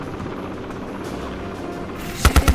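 A National Guard helicopter is heard as a steady rotor drone, ending in a few loud, sharp low thumps close by.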